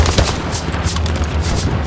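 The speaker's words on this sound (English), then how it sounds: "a fucking machine gunner right on this window" Rapid machine gun bursts in Hell Let Loose fire from close by, loud and continuous, with sharp rattling shots across the whole stretch and no talk.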